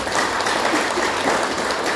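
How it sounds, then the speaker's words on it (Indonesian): Christmas-service congregation applause in an Indonesian church, a continuous, even patter of many people clapping, fairly loud and unbroken throughout. "Beri tepuk tangan bagi kemuliaan Tuhan"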